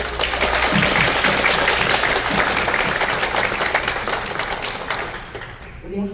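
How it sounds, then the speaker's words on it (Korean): A showcase audience applauds the parents, loud sustained clapping from a large crowd with some voices mixed in, tapering off toward the end. "그래서 우리 모두 한번 학부모님들께 박수 한번 쳐주세요"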